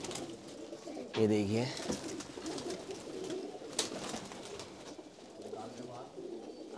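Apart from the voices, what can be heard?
pigeons cooing, dub pigeon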